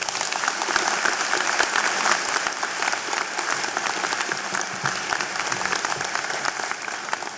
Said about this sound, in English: let's give the Deputy Vice Chancellor and Principal of UBC Okanagan a great round of applause